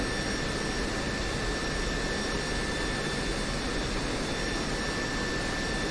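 An F-16C Viper fighter taxis off the runway in the DCS World flight simulator, its jet engine producing a constant loud roar with steady high-pitched whine tones, unchanging and alone with no speech.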